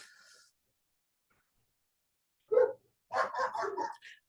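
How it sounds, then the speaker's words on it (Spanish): Dogs fighting outside a window, with one sharp bark followed after a pause by a burst of several rapid yelps and growling barks, faint and at a distance in an otherwise quiet room. "Tengo una pelea de perros justo acá enfrente de mi ventana."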